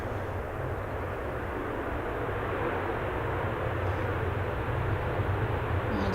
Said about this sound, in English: This Ryanair's arriving from Belfast.